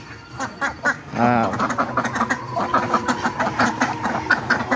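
Mother ducks quack repeatedly at feeding time, close and loud, a run of nasal calls and chatter with a longer burst early on, steady busy quacking throughout.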